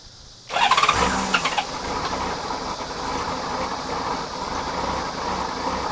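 A small gasoline engine, run on Sea Foam-treated fuel without choke, catches abruptly after a brief quiet lead-in, then settles into a loud, steady, close running drone that continues to the end.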